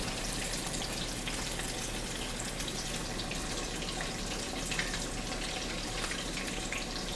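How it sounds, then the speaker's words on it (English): Chicken frying in hot oil, a steady dense crackle and sizzle holding at an even moderate level throughout, with no voices over it. "All right, now we're gonna fry the chicken."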